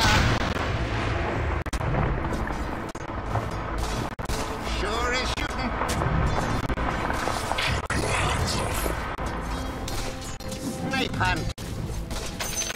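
In Dota 2 gameplay, the Sniper hero fires repeated loud gunshots with booming, explosive impacts amid dense battle noise, and a voice talks over the action.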